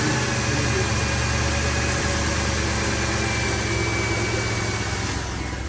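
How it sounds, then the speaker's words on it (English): A 2006–2011 Cadillac DTS engine idles steadily right after an AC clutch replacement, a constant close mechanical hum with a faint whine that holds evenly throughout. "We're gonna go ahead and turn it on and verify proper right. So vehicle's running,"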